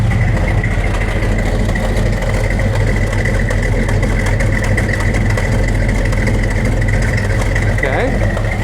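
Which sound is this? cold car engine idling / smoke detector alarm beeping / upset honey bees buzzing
cold car engine idling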